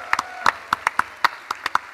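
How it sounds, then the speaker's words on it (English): Scattered, sharp hand claps from an audience at the E3 Coliseum God of War panel, about a dozen distinct claps over two seconds in an uneven, thin rhythm rather than a full roar. "please help me in giving him a warm round of applause"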